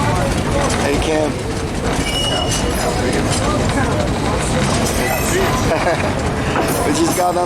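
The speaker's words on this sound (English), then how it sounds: "We just got on the train for the Costa Rica train tour through the countryside and also the banana plantations." Tourist train rolling through the Costa Rican countryside and banana plantations near Limon, a steady loud rumble of rail cars and wheel noise with faint squeals, continuous throughout with voices mixed in.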